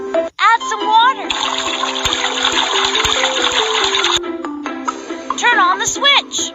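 A cartoon cement mixer truck has water poured in, a steady gushing, splashing flow lasting about three seconds, with high-pitched childlike voices speaking before and after.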